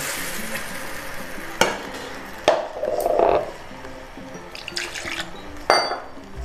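Spice paste for spiced black chickpea curry stirred in a spoonful of oil in a kadai, soft wet frying and scraping with several sharp spoon knocks against the metal, close and alone.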